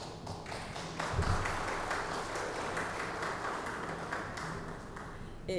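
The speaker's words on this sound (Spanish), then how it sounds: "Por ello que les pido un fuerte aplauso de bienvenida" Welcome applause from an audience at an electoral lecture series session greets an arriving guest doctor, a steady wash of many hands clapping that swells after the first second and holds at moderate loudness throughout.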